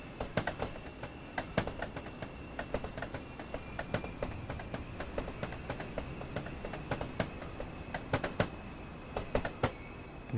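A train in Train Sim World 2 runs steadily along British rails, its wheels beating a regular clickety-clack rhythm with repeated sharp clicks over the joints, all heard clearly at an even level with no one speaking.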